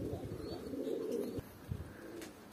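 Pigeons coo in low, repeated throaty calls, close and moderately loud, in an outdoor setting in Crimea where a peregrine falcon hunts doves.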